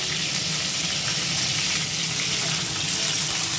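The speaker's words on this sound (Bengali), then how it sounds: "ভীষণ তেলের মধ্যে দিলে একদম ফুটছে, গায়ের মধ্যে একদম এসে পড়ে যাচ্ছে।" Pointed gourd (potol) frying in very hot oil, a loud, steady, dense sizzle and crackle that fills the whole stretch without letting up, with no voices over it.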